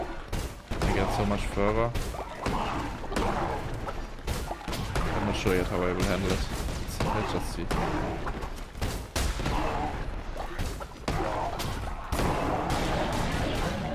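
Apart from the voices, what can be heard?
explosions in the video game Cult of the Lamb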